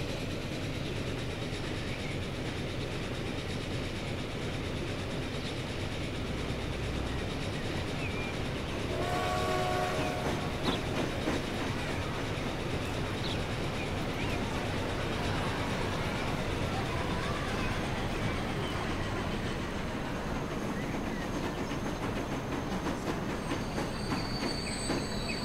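Train in the Transport Fever video game pulling into a station, with a continuous loud rumble of wheels and engine throughout and a brief horn or whistle partway through.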